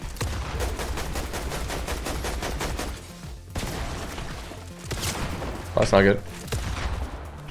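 Rapid automatic gunfire in the Fortnite video game, Blitz mode, a dense volley of shots running for several seconds, then scattered bursts and a sharp loud blast, with a player's voice talking over it.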